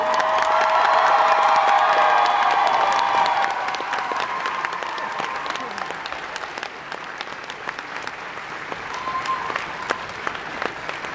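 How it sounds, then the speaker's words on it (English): A studio audience claps loudly at a television fan event, with dense, sustained applause and some cheering that eases slightly after a few seconds but continues throughout. "Big round of applause for Kenzie."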